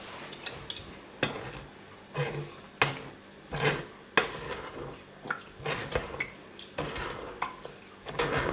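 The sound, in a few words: stirring blackberry and wine juice through a sieve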